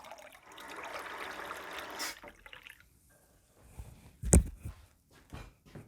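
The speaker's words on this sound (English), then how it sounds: "I'm using hot water from the tap." Hot tap water pours into a mixing bowl for wheat paste, a steady rushing stream lasting about two seconds, followed by quieter dribbles and a sharp knock.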